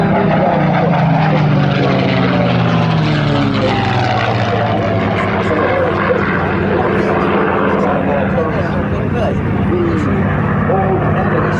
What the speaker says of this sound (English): Landing the Spitfire is a very nice moment. It's landing quite slowly.